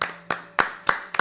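Five sharp hand claps in a steady, evenly spaced rhythm, close and fairly loud, with brief decays between them and no talking.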